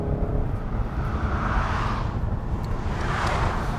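A 2019 Peugeot 508 GT with a 2.0 BlueHDi diesel engine driving and accelerating, a steady, loud broadband road and engine rumble heard from inside the cabin, continuous without talk.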